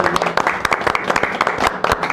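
A burst of audience applause, scattered claps with crowd noise mixed in, lively but brief.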